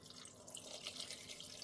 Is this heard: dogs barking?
no